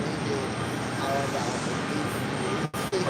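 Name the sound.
Lufthansa airliner passing at JFK airport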